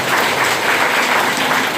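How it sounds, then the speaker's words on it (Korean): Audience applause fills the room at a corporate business presentation, a dense, steady wash of many hands clapping at once, loud and sustained throughout with no pauses. "박수 한번 주세요."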